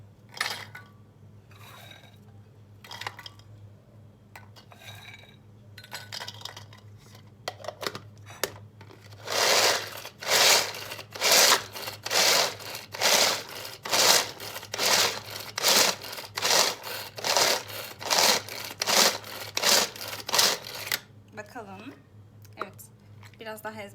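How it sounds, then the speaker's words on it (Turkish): A hand blender pulsing through ingredients for cold baklava in short repeated bursts, each a harsh whirring crunch, close and loud, following some softer clicks and handling noise. "Ben bunu el blenderı ile yapacağım"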